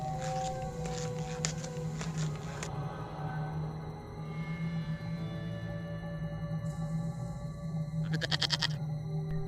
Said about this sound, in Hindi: अरे ये बकरी भी इस गुफा में क्यों चली गई?